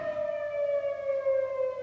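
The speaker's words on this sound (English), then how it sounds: "so the siren goes off at noon every day." A civil defense siren sounding at noon gives a steady, sustained wail, its tone slowly drifting lower, heard from some distance with no voices.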